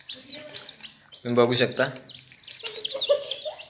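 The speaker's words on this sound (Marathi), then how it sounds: "हे बघा, छोटी छोटी पिल्लं आहेत" Small chicken chicks chirping close by, a run of high thin peeps repeating throughout, with a person talking over them in the middle.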